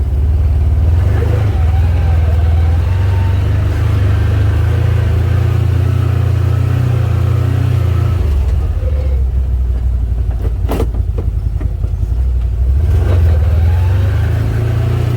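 A medium truck engine revs and drones steadily near the microphone on a bush property track, loud throughout, its pitch shifting as it accelerates and eases off, with brief faint talk underneath.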